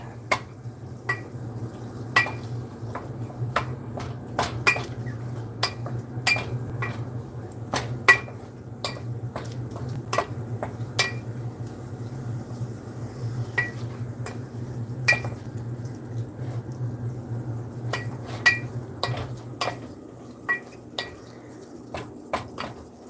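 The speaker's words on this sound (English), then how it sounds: "Get it stirred up a bit." Spoon stirring spaghetti sauce seasoned with garlic powder in a pot, repeated sharp metallic clinks and scrapes against the pot at an irregular rhythm over a low steady hum, close and clear without talk.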